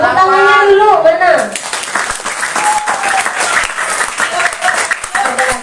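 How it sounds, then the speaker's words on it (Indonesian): Applause breaks out from an audience at an evening Islamic boarding-school (santri) motivational talk, following a voice. It becomes a busy clatter of many hands that continues with an uneven rhythm through the rest of the clip. "Tepuk tangannya dulu, mana?"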